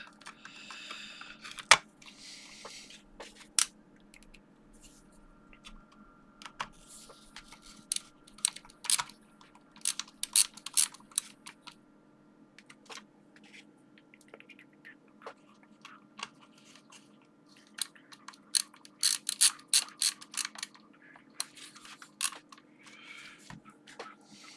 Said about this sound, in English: get the screws done up